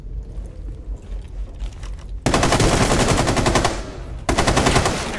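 Automatic gunfire in Rainbow Six Siege Terrorist Hunt mode, two loud, sustained rapid bursts separated by a brief gap, following quieter game ambience.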